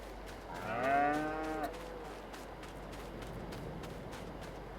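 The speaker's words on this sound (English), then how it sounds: "How many cows can we have in this pen here?" A cow in Farming Simulator 22 lets out one long, loud moo near the start, then fades into a quiet farm backdrop.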